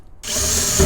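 Power drill boring pilot holes for mounting speakers in a 1999–2006 GM truck, a steady close whirring grind that starts abruptly and holds with no talk.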